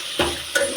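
Garlic and onion sizzling in hot oil while being tempered for oro, with brief stirring scrapes at two points over a steady close sizzle, no voices.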